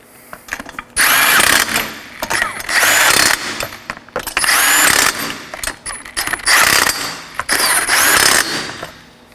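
Fasteners on a 2013-2019 Nissan Sentra front lower control arm are tightened in a crisscross pattern with a power tool, loud close whirring bursts of about a second each alternating with ratcheting clicks and brief pauses.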